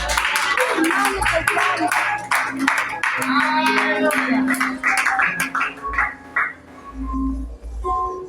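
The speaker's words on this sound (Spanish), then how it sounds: "Dale un aplauso a Dios, hermano." A church congregation claps in a run of rapid, overlapping bursts, while voices and other sounds carry through the hall.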